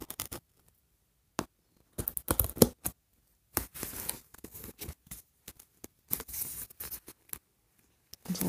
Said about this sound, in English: now we're going to cut and open her up